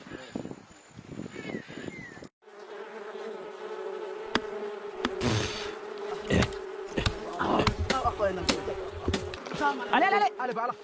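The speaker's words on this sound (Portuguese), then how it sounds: "Cientos de abejas revolotean a su alrededor. Su zumbido suena como una tormenta." Hundreds of wild bees buzz around in the open wilderness, a dense droning hum rising and falling as individual insects pass close by, with rustling movement and occasional voices among it.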